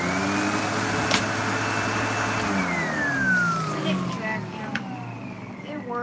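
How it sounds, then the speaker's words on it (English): A Windsor XP12 upright vacuum cleaner runs close by with a loud steady whine whose pitch rises and falls, accompanied by a few clicks and knocks. "it's all in all, it's a pretty cool vacuum"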